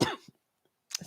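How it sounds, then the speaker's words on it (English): A woman coughs once during a yoga session, a short raspy burst up close, followed by a quieter throat sound and a second brief cough after a pause. "Still have my cough a little bit."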